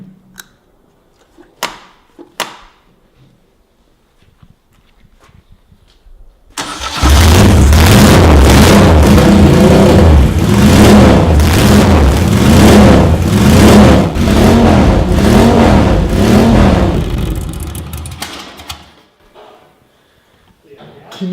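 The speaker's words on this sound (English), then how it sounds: "This is a factory Moto Guzzi race exhaust, which is completely open, but it carries 2 crossovers for flow and performance." Moto Guzzi motorcycle with an open factory race exhaust carrying two crossovers fires up after some quiet handling noises, then roars loud and close for about ten seconds with repeated throttle blips before cutting off.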